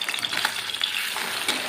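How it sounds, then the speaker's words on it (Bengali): Bata fish rubbed with salt and turmeric sizzles in hot mustard oil in a kadai, a brief, steady close crackle and spatter with no talk. "এবারে কড়াইয়ের মধ্যে দিয়ে দিচ্ছি আগে থেকে ধুয়ে পরিষ্কার করে নুন হলুদ মাখিয়ে রাখা বাটা মাছ।"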